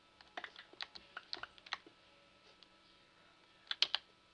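Rapid clicking keystrokes on a computer keyboard during a Minecraft session, a quiet uneven run of close taps followed by a short pause and a sharper final cluster of louder clicks.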